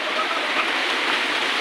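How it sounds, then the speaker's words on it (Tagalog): Steady, dense hiss of heavy typhoon rain pouring down during Typhoon Carina, constant and loud throughout with no pauses. "Tapos malakas pang ulan."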